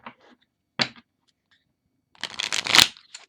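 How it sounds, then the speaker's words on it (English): Tarot deck cards being handled and shuffled close up: a few short riffle bursts early, then a longer, louder riffling shuffle near the end, quiet in between. "I'm just going to do just a little bit of shuffling, and then I'm just going to cut the deck"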